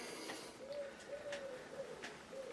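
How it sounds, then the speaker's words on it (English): A pigeon coos repeatedly in soft, low rounded phrases against steady background hiss, with faint clicks and chirps scattered through, in a room where an air rifle is being worked on. "Oh, shut up, pigeon."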